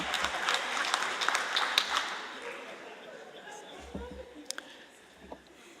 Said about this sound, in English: Let's clap for that guy.